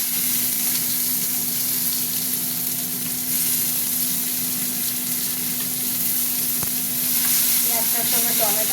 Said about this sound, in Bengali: পেঁয়াজটা একটু ভাজা ভাজা হোক, হতে থাক।